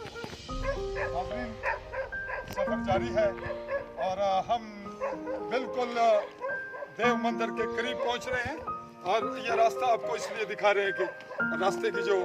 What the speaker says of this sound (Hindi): कुत्ता भी इस वक्त भौंक रहा है